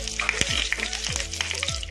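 Curry leaves and dried red chillies crackle in hot tempering oil for a hotel-style groundnut chutney. Close, loud sizzling is punctuated by a few rhythmic spoon scrapes, with no talk.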